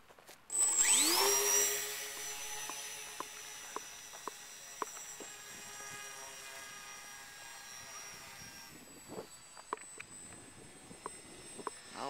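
Slow Stick twin RC model airplane with two electric motors, a high whining buzz that surges loudly at first, then settles into a steady hum under scattered clicks and knocks before dropping away near the end.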